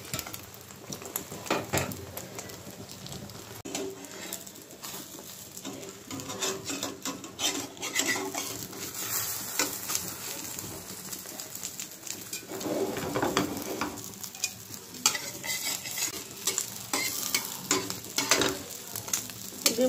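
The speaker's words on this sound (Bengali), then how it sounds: "তো ডিমটা ভেজে নেই।" Eggs frying in a pan for an egg curry, giving a continuous sizzle with scraping and stirring strokes of a spatula throughout, close and steady with no talking.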